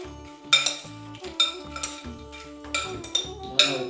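Aloo chana chaat with matri is mixed by spoon in a bowl, giving five or so short bursts of scraping and light clinks against the dish, separated by pauses, over soft background music.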